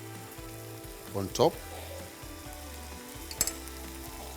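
Butter sizzles on layered vegetable ratatouille: a short burst of frying crackle near the middle and a brief sharp sizzle later, both faint over a quiet room background.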